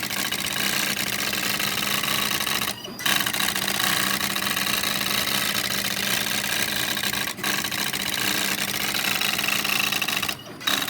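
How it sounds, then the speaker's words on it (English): An NEC Spinwriter printer's carriage is driven left and right by a motor and pulleys, giving a steady close mechanical whir and buzz with brief gaps where the motion stops and restarts. "It's moving it left and right with these pulleys and this motor back here."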